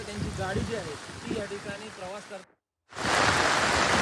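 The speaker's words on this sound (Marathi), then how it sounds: "पाऊस जो आहे तो मुसळधार कोसळतोय" Heavy monsoon rain in Sindhudurg, India hisses in a dense, steady wash, first under a person talking, then louder and alone after a brief silence.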